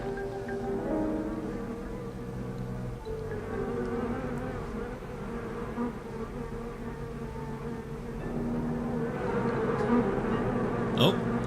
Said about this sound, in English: there's something that sounds like a bee up there